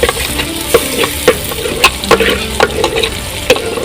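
A fried onion, tomato and coconut paste going into a sizzling chicken curry in a village kitchen, with loud steady frying and repeated sharp clinks and scrapes of a spoon against the pan, close by and without talk.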